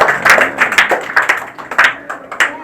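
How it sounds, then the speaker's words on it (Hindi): A classroom of students gives a brief round of clapping: about a dozen sharp, scattered claps come close and fairly loud in an uneven rhythm, with no talk over them. "अरे ताली तो बजा दो, तारीफ किया तुमने।"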